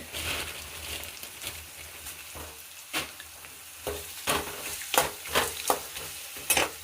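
Curry leaves and green chillies sizzle in hot oil in a pan for raw mango chitranna, a steady close crackle broken by repeated scraping knocks of a stirring spoon.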